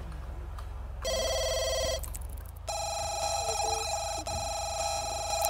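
A telephone rings in The Sims 2, sounding as bright repeated electronic trills that start and stop, then resume and carry on steadily at a moderate level.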